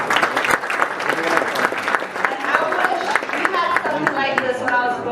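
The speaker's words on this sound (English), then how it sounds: "let's give them a round of applause for the organizers" An audience claps for the organizers at an Ethiopian professionals' event in Atlanta, a sustained round of many hands applauding at moderate volume with some voices in the mix.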